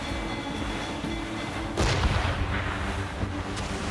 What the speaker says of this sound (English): Fire! You can fire many volleys!